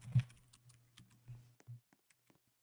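Quiet irregular clicking of computer keyboard keys as someone types a message into a Roblox Toilet Tower Defense game chat, a few soft taps and a louder thump, close up in a silent room.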